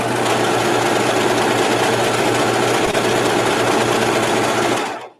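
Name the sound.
serger sewing a rolled hem on fabric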